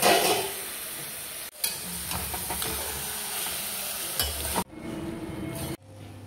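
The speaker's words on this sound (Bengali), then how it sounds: "এই দেখো মশলা কষানো হয়ে গেছে, এখন মাটনটা দিয়ে দেবো।" Mutton pieces hitting hot, cooked-down masala in a pan set off a loud, dense sizzle with stirring scrapes, the hiss swelling and dropping in bursts as the meat is tossed, close by with no talk.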